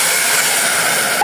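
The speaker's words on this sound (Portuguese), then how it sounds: "colocar aqui agora a água." Water poured into a hot pan of seasoned rice sets off a loud, continuous steam hiss, close and unbroken through the short moment.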